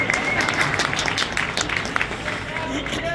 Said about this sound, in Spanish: Sí, podéis aplaudir si queréis.